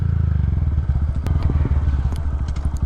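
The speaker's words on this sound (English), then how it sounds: "First gear." Motorcycle pulling away in first gear from a stop sign, a loud, close engine note with a rapid pulsing firing rhythm and a few mechanical clicks and clunks.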